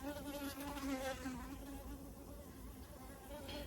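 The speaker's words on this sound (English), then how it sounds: "You can be pestered by bees." Bees buzz close by, a faint wavering drone that rises and falls over a few seconds.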